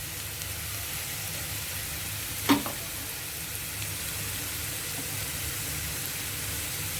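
Hot oil sizzles steadily in a pan after half a spoon of asafoetida goes in for a carrot and spinach dish, a constant fizzing hiss with one brief sharp clink partway through.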